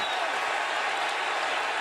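A college football stadium crowd at an Oklahoma–Texas game roars in a steady, dense wall of noise, reacting in protest and wanting an intentional grounding flag.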